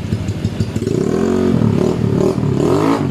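A Honda Beat FI scooter fitted with a Yolac racing cam revs hard close by, the engine climbing and falling in loud repeated surges with a rough clattering edge throughout.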